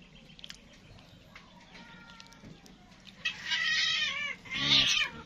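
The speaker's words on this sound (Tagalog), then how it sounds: "Pusa ko guys oh. Dami." Several cats meow at home on a hot, humid morning, first faint and sparse over quiet background noise, then loud, close drawn-out meows and yowls near the end.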